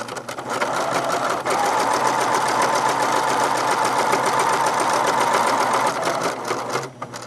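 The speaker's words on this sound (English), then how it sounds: "So I'm going to do 2 lines of stitching with a very long stitch." A sewing machine runs steadily for about seven seconds, stitching two lines of long gathering stitches through fabric, a loud continuous mechanical whir with a fast rhythmic needle chatter that starts and stops cleanly.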